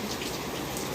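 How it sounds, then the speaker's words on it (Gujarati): Heavy monsoon rain falling steadily, a dense continuous hiss of drops on surfaces, loud and close, with no voices. "જો પાછો કેવો વરસાદ ચાલુ થઈ ગયો. બહુ જ વરસાદ છે."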